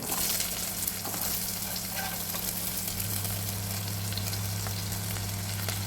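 Two medium chopped onions frying in a pan give a loud, even, continuous sizzle with a low steady hum underneath and no pauses.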